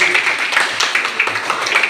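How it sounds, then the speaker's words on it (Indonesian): Dense, steady applause from a classroom group for a student named Wahyu, a quick continuous patter of many hands at close range with no voices. "kita beri tepuk tangan untuk si Wahyu"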